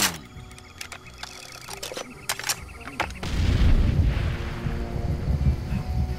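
Far Cry 2 gunfire crackles as a series of sharp, spaced shots, then a heavy explosion erupts into a loud, rumbling boom that lingers and rolls on to the end.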